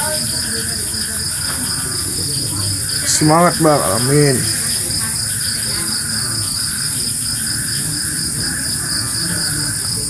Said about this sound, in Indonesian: Noise-nya suara jangkrik.